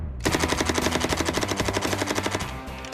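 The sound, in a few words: Uzi submachine gun continuous fire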